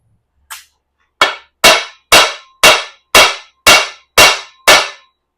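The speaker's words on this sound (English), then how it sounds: "I'm going to tap the shaft itself." Hammer blows on the drive shaft of a 1988 Dodge W150 while a U-joint is replaced: one light tap, then seven sharp metallic strikes at an even rhythm, close and loud, with no talk.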